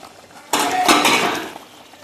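A lid comes off a cooking pan of fish chaap with a sudden metallic clatter, and the metal keeps ringing and rattling briefly. The sound is close and loud, then it fades into quiet kitchen background.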